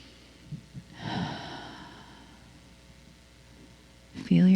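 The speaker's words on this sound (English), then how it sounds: "And take another breath." A single deep breath is drawn and released during a guided meditation, soft and close, followed by a voice starting to speak at the end.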